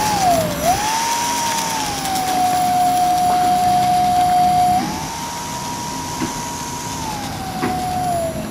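An electric RC model P-40 Warhawk, a 6S-powered replica, taxis on the ground with a loud, close electric motor whine that glides between pitches as the throttle changes, steady throughout with no talking.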